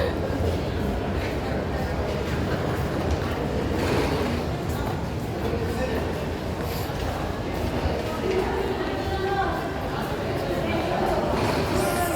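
A train runs through a deep rail tunnel, giving a steady, loud, close rumble that carries unbroken for the whole stretch, with a murmur of voices underneath.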